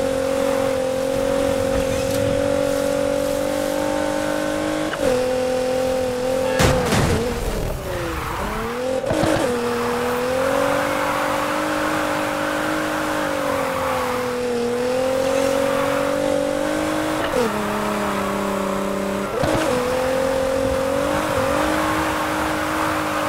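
A Nissan GTR with over 950 HP drives at night in the video game NFS Heat. The engine drones at a steady high pitch, revs rise and fall through gear shifts, and tires screech briefly.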